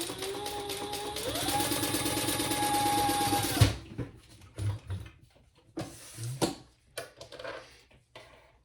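A sewing machine runs continuously for about three and a half seconds basting fabric closed, its fast rhythmic stitching rising in speed partway, then stops, followed by quiet handling clicks and rustles.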